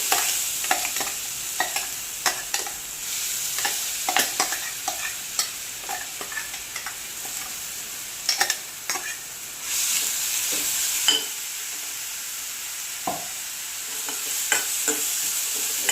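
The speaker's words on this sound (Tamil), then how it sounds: "பட்டையை போட்டு தாளித்து அரைச்சி வச்சுருக்க பொருள்லாம் எண்ணெயில் போட்டு" Ground spice paste fries in hot oil with cinnamon for a mutton trotter soup, a steady close sizzle broken by repeated scraping strokes of a spoon against the pan, with no voices.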